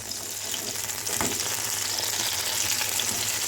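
Spicy brinjal frying in a pan, a loud steady sizzle close up, with a few scraping stirs breaking through the hiss and no talk.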